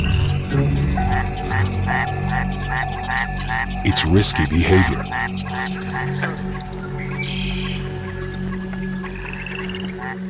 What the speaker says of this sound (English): To attract a female, the Mexican white-lipped frog makes a series of chirping sounds.